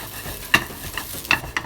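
Corn being stirred as it browns in a hot pan, with sharp scraping clicks and a light sizzle underneath, several strokes in quick succession.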